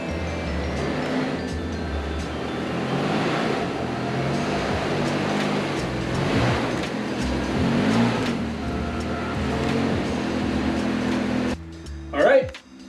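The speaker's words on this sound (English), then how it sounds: "We got the car running." A 1976 Toyota Celica GT's 20R four-cylinder engine idles steadily at a distance after sitting for two years, a low continuous drone with a person speaking briefly at the end.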